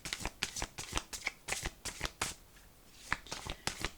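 The Venice Witch oracle cards being shuffled by hand, a close run of quick crisp riffling flicks in irregular bursts, with a brief lull midway and no voice over them.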